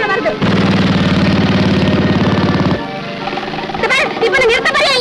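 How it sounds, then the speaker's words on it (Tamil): A loud, rough engine runs steadily with a hammering rattle, then cuts off abruptly; voices start talking right after. "மோட்டர் பைக் தான் பின்னால வருது."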